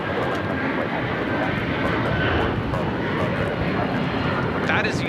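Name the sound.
United Airlines Boeing 757-200 taking off at LAX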